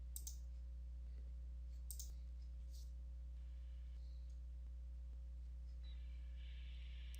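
A computer mouse clicked a few times in quiet succession, each click sharp but faint over a low, constant electrical hum.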